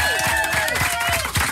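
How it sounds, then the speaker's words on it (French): Studio applause and cheering for radio host Max, a short burst of clapping with crowd noise while a tonal jingle or voice line runs over it. "Applaudissements pour Max."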